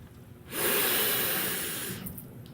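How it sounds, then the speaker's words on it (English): One person takes a long audible breath, a soft breathy rush swelling in, holding steady and then fading over about a second and a half, close and quiet. "Yeah, breathing, check."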